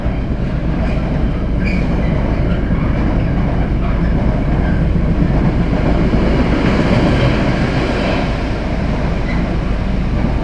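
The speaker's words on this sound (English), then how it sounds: "That was a diesel Freightliner." Long diesel freight train rumbling past close by, a loud continuous roar of wheels and wagons with faint clatter and squeal, steady for the whole stretch with no talk.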